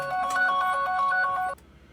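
A phone ringtone for an incoming call chimes during a strategy-game session, a bright repeating melodic pattern of quick tones at moderate loudness that stops abruptly after about a second and a half.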